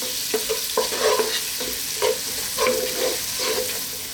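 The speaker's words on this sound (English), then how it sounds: "So on a medium heat, let's just throw this around in the pan just for like 2 to 3 minutes." Ingredients tossed and sautéed with salt in a pan over medium heat, a steady sizzle broken by repeated scraping strokes of the spatula in an uneven rhythm, close and fairly loud, with no voices.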